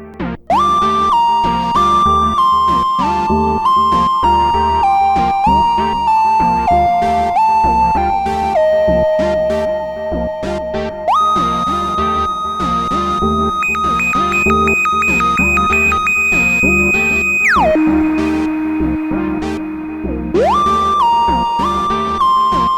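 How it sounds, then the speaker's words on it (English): A bright synthesizer lead plays a stepping melody of sustained notes, bathed in lush Universal Audio Lexicon 224 reverb, with a busy sequenced backing underneath, loud and continuous. "I'm going to use this Universal Audio Lexicon 224 reverb for our single voice"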